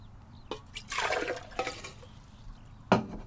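Water flowing through a no-till soil sample, heard as soft splashing and trickling bursts with brief gurgles and a sharper pour near the end, close and fairly quiet.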